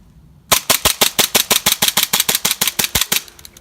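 Armor Works Hi-Capa gas airsoft pistol, two years old, fired in a rapid steady string of about twenty sharp cracks, loud and close, each shot crisp and evenly spaced.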